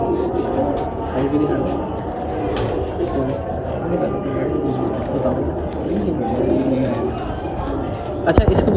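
Pigeons coo in low, rolling calls in a loft, repeating under steady background chatter and people speaking nearby, with a brief sharp clatter near the end.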